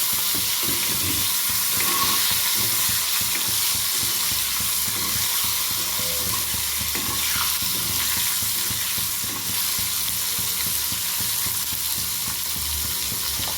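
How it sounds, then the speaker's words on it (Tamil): Dried fish (karuvadu) and onions fry in a pan with a dense, continuous sizzle and crackle that stays loud and even throughout, with faint stirring underneath. "வெங்காயம் வெந்த பின்னாடி போட்டுக்கலாம் கருவாடை. கருவாடு நல்லா வேகட்டு."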